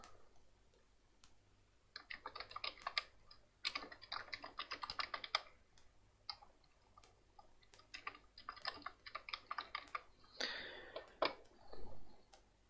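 Bursts of rapid keystrokes on a computer keyboard clatter in quiet rooms, separated by short pauses and a few isolated clicks, ending with louder key presses.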